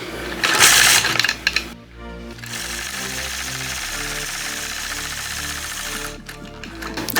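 A sewing machine quilting straight lines with a ruler foot, following the markings on a quilting ruler at half- and quarter-inch spacing, runs in a steady, continuous mechanical hum after a brief louder burst at the start.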